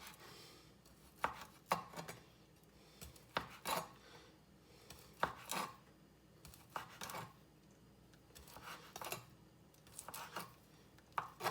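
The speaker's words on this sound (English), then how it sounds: "now I'm going to start to slice the meatballs and the" A knife slices through cooked meatballs and barbecued sausage on a board, giving a series of close, crisp cutting knocks and scrapes at an irregular rhythm, roughly a dozen strokes with quiet gaps between them.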